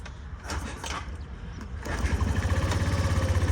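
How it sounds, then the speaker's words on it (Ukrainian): Suzuki Address V125 G scooter engine kick-started, sputtering briefly before catching and settling into a steady, louder idle with a rhythmic low throb; close and clear, no talking. "Заводиться із кікстартера"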